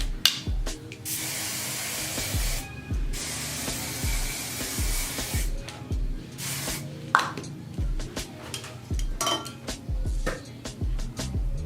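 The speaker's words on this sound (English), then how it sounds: "it is a finishing spray. So I'm going in with that first" Short hissing bursts from an aerosol can of hair finishing spray repeat between clinks and rustles of handling, close by.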